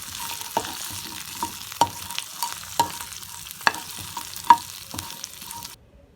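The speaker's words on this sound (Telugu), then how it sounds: "ఇప్పుడు దీంట్లో ఆల్రెడీ మనం ఫ్రై చేసి పెట్టుకున్న ఎగ్ బాల్స్ని యాడ్ చేద్దాం. క్విక్గా ఒక స్టిర్ ఫ్రై ఇచ్చేద్దాం వీటికి." Fried egg balls for Egg 65 tossed in a hot pan, a soft continuous sizzle punctuated by regular sharp scrapes and clacks of a spatula against the metal, close and with no voices.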